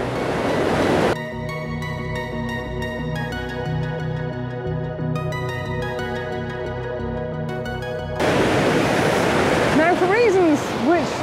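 Water rushes over rocks and an edge at Cauldron Falls in Yorkshire, a broad steady roar at the start and end, with music covering the middle stretch and a voice briefly near the close.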